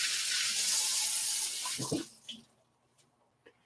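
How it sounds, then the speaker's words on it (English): Hands rinsed under a running kitchen tap: a close, steady gush of water for about two seconds that then cuts off, leaving a few faint drips and clicks. "Rinse off the hands."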